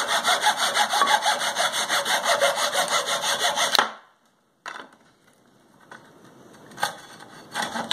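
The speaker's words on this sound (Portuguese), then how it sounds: "vou serrar esse pedacinho de madeira aqui" A hand saw cuts through a small piece of wood from an old crate with steady, rapid back-and-forth strokes, close and loud, then stops; a few faint scrapes and knocks of the wood being handled follow.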